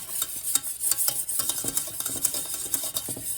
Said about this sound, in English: That's why I'm going to keep stirring it.